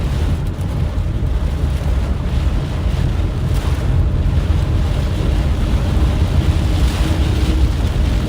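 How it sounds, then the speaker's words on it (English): Strong, gusty wind blows steadily and loudly across an open farm field, buffeting the microphone with continuous rumbling roar and no pauses. "Still having some pretty good wind here too"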